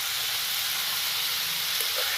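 Vegetables for a vegetarian spring roll filling fry in a pan with a steady, close sizzling hiss that runs unbroken and fairly loud throughout, with no talking.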